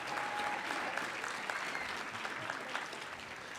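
Applause from an awards-ceremony audience at the 37th City of Destiny Awards, a steady dense wash of many hands clapping at moderate distance that holds level for the whole stretch.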